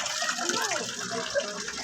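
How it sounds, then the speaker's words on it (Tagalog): Water keeps trickling and splashing steadily at an outdoor spot under construction in Baguio, a continuous gushing wash with faint background sounds. "Tumutulo pa yung tubig."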